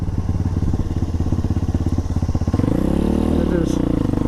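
Apollo 250 motorcycle ridden along, its engine thumping in a fast, even pulse close to the microphone, rising in pitch briefly as it revs, while someone talks over it.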